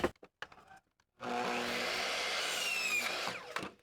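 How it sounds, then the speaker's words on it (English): A miter saw set at a 15-degree angle cuts through a piece of wood flooring, a few brief clicks and knocks followed by a loud, steady whining motor roar with the blade biting through, then spinning down. "now we're just going to take our miter saw"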